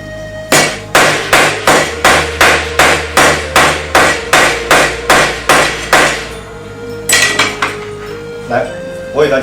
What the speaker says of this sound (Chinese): 我们分别用着锤子测试祖基寿防爆膜和钢化玻璃膜。